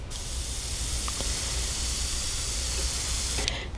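A paint spray gun at low pressure, around 10 psi, lays black-tinted colour for a shad fishing-lure finish. It gives a steady close airy hiss for several seconds and cuts off near the end.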